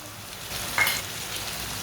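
Chopped tomatoes and green chillies frying with lightly browned onions in a pan for an egg recipe, giving a steady close sizzle with a brief louder crackle midway.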